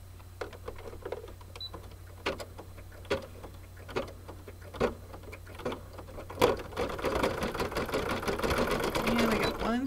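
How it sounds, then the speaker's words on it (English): An embroidery sewing machine stitches decorative stitching around an appliqué flower on an in-the-hoop Easter egg coaster, with a steady ticking run of needle strokes that quickens into a dense, louder whir near the end. "We're going to put it back on the machine. It'll stitch the decorative stitching around the flower."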